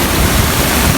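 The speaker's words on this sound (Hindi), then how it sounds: "फिर जी बारिश जारी हो गई है तेज बारिश" Heavy rain pours steadily in stormy weather, a dense, loud, unbroken roar close by, with no voices.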